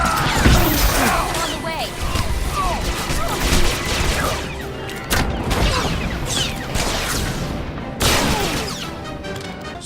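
A Star Wars: The Old Republic firefight bursts into loud, rapid volleys of shots with crashes and mechanical clatter, while a voice speaks briefly over the shooting.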